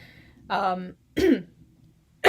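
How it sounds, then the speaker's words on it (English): A man clears his throat and coughs close to the mic in two short, rough bursts, with a quiet pause between them. "Excuse me while I have a cough there."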